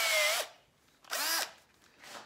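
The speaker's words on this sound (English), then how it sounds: "I am going to grab another driver, another drill." A Milwaukee cordless power drill whirs in two loud bursts, the motor pitch sliding down as each stops, followed by a shorter, fainter spin.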